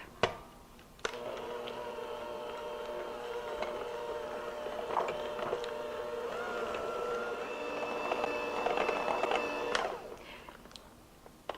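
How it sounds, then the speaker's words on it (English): An electric hand mixer whirs steadily for about nine seconds as it beats cream cheese and milk into a smooth icing. The motor hum holds a constant pitch, rising slightly near the end before cutting off. "I'm going to use my electric hand mixer and just mix this until it's smooth"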